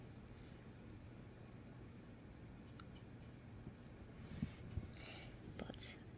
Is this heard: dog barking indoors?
no